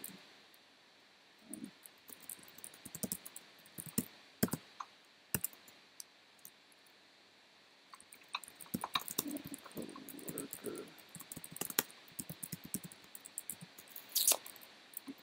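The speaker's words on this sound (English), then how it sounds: "I'm typing back to you." Keyboard typing in sparse bursts of light clicks, close and quiet, with pauses between clusters and no talking.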